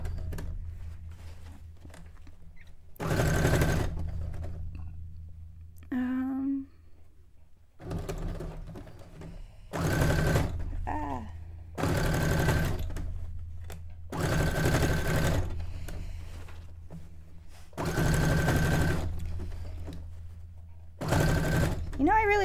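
Sewing machine stitching a miniature townscape cone-shaped cape or dress, running in several bursts of a few seconds each separated by short pauses, fairly close, with quiet handling sounds between runs.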